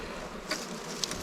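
Bees buzz during a hive transfer, with a continuous close insect hum and a few brief louder passes as individual bees fly near.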